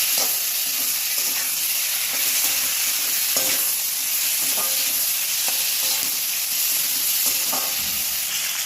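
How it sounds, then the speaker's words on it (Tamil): Tomatoes and onions sizzle in a pan for a mathi fish curry, a dense continuous frying hiss with faint rhythmic stirring clicks, close and steady with no voices. "தக்காளியும் கொஞ்சம் நல்லா வதங்க விடணும்."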